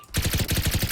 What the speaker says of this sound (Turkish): silahın sesi güncellenmiş